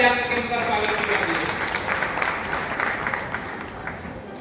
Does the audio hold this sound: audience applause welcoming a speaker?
yes